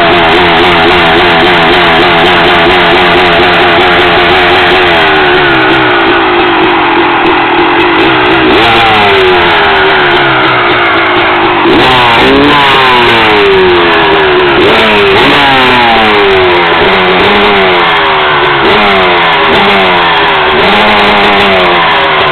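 A Honda CR250 two-stroke motocross dirt bike engine runs loud and close, revving repeatedly with rising and falling pitch and a raspy, buzzing tone, with no talking over it.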